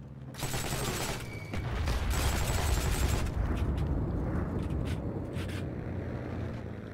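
Rapid sustained bursts of Thompson submachine gun fire in the World War II shooter Heroes & Generals, loud and close, rattling continuously for several seconds before tapering off with a few scattered shots.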